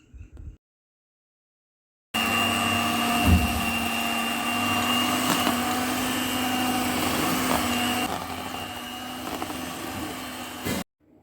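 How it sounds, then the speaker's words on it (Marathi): Electric hand beater whipping a set chocolate ice cream milk mixture in a bowl, a loud steady motor whir starting abruptly and running for about nine seconds before cutting off, with brief faint sounds around it. "आता हे मिश्रण आपण बीटरच्या साहाय्याने छान बीट करून घेणार आहोत।"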